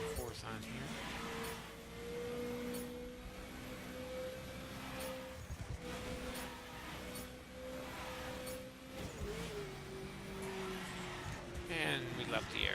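A car drifts back and forth across a four-lane road in the racing game The Crew, its engine holding a steady, loud drone that dips and rises with the slides, while a voice talks over it at times.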